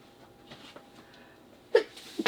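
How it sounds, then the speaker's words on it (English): A single close sneeze bursts out near the end of a quiet indoor moment, preceded by faint rustling and small handling noises. "I hate sneezing. It hurts."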